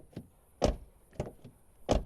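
The rear door of a Mercedes A 180 1.5 dCi hatchback is opened and shut several times, giving sharp, close latch clunks and thuds spaced about half a second apart with quiet between them.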